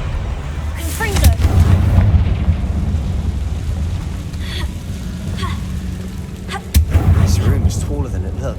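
Confringo fire spell blasting in the Hogwarts Legacy video game: a loud booming burst followed by a rumbling roar that fades, with a second sharp impact later, all over a continuous low in-game ambience.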